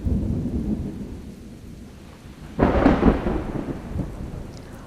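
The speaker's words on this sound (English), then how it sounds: "Oh, here comes some precipitation now." Steady rain falls with a rumble of thunder, then a louder thunder crash breaks in midway and fades back into the continuous rainfall.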